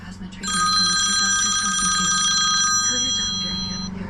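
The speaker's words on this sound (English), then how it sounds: "My phone is ringing." A mobile phone rings with a bright electronic tone that starts about half a second in and carries on steadily for around three seconds, then fades under continuous low background noise.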